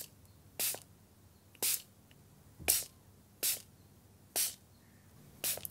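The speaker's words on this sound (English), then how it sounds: "Next, you want to grab your spray bottle." A spray bottle mists six times in short, sharp hissing bursts, evenly spaced about a second apart, close by with quiet between each spritz.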